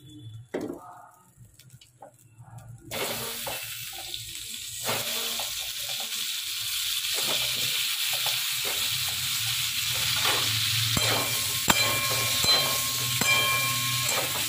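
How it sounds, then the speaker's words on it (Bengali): Potatoes fry in oil in a kadai, starting quiet with a few clinks before a loud, hissing sizzle builds and stays steady close by, with scattered stirring knocks. "কড়াই তেল দিয়ে আলুটাকে একটু নেড়ে নেবো।"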